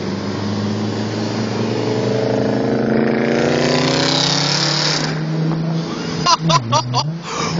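An Audi S5 V8 with an aftermarket exhaust revs up loud and close, a deep rising growl that climbs and falls, then a few sharp throttle blips near the end.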